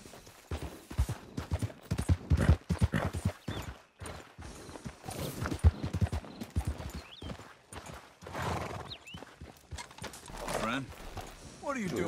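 Horse hooves clip-clop in Red Dead Redemption 2, a fast, uneven run of close hoof strikes that later slows, with a brief whinny and voices talking over the ride.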